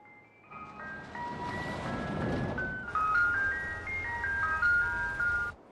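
A tinkling ice cream truck jingle plays a simple repeating melody of bright music-box notes, moderately faint and slightly distant, with a low rumble underneath.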